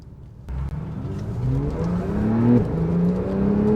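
A Porsche 911 Carrera 4S PDK 3.0 turbo (991.2) accelerating, its engine note climbing in pitch, dropping briefly at a crisp gear change and climbing again, heard from inside the car.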